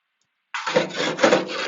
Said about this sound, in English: Gonna give them a scrape.